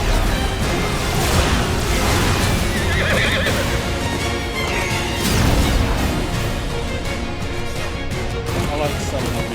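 Horses neighing and whinnying in Final Fantasy XVI, with clip-clop hooves and game music, loud and continuous throughout.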